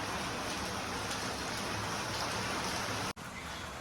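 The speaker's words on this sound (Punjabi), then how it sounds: "ਪਤਾਸੇ ਜਿੱਡੀ ਜਿੱਡੀ ਘਣੀ ਡਿਗਦੀ ਆ ਦੇਖੋ" Dense, steady pelting of large hailstones striking surfaces, a continuous broadband clatter with a brief dropout near the end.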